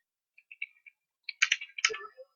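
Keys on a computer keyboard tap in short bursts: a few sparse clicks, then a quick cluster of louder strokes, close up in an otherwise quiet room.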